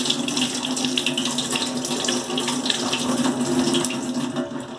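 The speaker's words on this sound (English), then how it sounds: "I'll just very quickly give this a rinse with some water" Tap water runs steadily over a stripped plastic model being rinsed after cleaning with isopropyl alcohol, a close, continuous splashing rush that shifts slightly as the piece moves under the stream.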